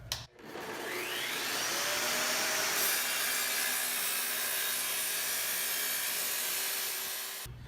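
A table saw cuts a 22.5 degree miter through wood using a miter attachment, making a steady, loud whine that runs continuously for several seconds and then stops.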